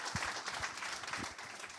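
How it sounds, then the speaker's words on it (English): Audience at a convention applauding, a brief burst of dense clapping from many hands in a hall, moderately loud and steady. "Perhaps a big applause."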